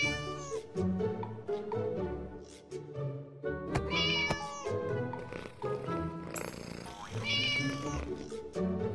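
A kitten's meows rise repeatedly over a busy, loud musical background, several drawn-out calls spread through the clip.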